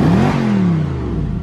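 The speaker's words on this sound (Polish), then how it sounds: "Ten ryk silnika od C6-3." Mercedes-AMG C63 engine revving up and then easing off, a loud close deep roar with a rising then falling pitch, alone without talk.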